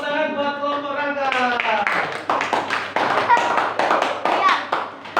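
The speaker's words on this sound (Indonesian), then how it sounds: "Tepuk tangan buat kelompok Rangga." A classroom of students claps for a student group after a presentation in a teacher-training class, sparse quick hand claps that build after a voice and continue loudly and unevenly to the end.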